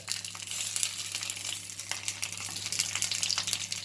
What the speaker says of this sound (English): 2 sausages sizzling in a pan.